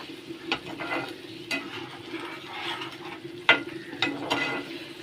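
Spiced masala of cumin, ginger, tomato and coriander with salt, turmeric and Kashmiri chilli powder sizzles and is stirred in a pan, a steady close frying hiss broken by sharp scrapes and clicks of the spoon.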